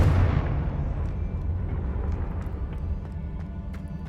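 A Confringo blasting spell explodes in the Hogwarts Legacy video game: one loud, booming burst at the start that fades into a long rumbling decay, with faint small pops scattered afterward.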